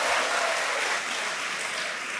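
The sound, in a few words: applause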